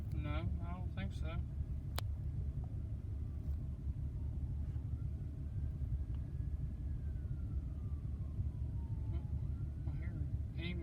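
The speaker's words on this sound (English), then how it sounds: "I hear an ambulance or something." Near a closed railway crossing in Texas, a faint distant siren wails in slow rising and falling sweeps over a constant low traffic rumble, with brief chirping sounds near the start and no talk.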